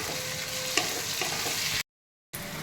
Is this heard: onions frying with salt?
yes